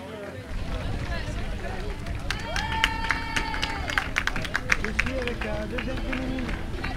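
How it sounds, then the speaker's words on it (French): Spectators at an ultra-marathon finish line clap and cheer for an arriving runner, scattered sharp claps building under a busy outdoor crowd murmur, with a commentator talking over it. "Les applaudissements commencent à monter derrière nous,"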